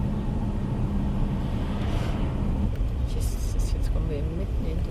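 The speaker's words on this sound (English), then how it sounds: "jetzt kommen wir mitten in den Scheißverkehr rein" Dense road traffic in Juliaca, Peru, heard from inside a moving vehicle: a steady low engine and tyre rumble fills the scene, faint honks and passing vehicles rise above it, and voices talk over the noise.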